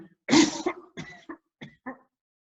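A strong, harsh deliberate breath-training cough followed by several shorter, weaker coughs spaced out in a loose series, close and with no talking.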